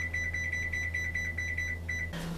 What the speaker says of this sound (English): And set the timer for 30 minutes.